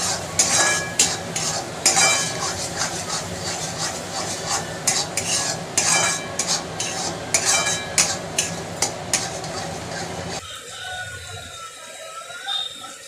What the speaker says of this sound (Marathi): आता हा मसाला चांगला तेल सुटेपर्यंत परतवायचा आहे.